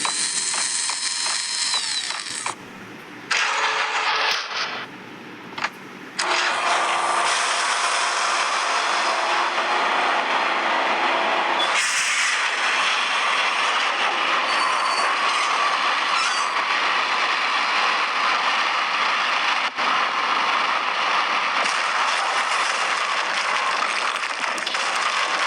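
Subway train powering up in the Max Payne video game, a broad mechanical roar with brief ratcheting clanks and dropouts early on, then a sustained loud rumbling hum, no voices.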